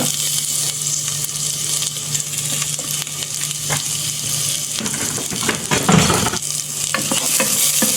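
Garlic and onion sautéing in oil for a soup, a steady close sizzle with repeated stirring and scraping sounds throughout, and a brief louder burst near the middle.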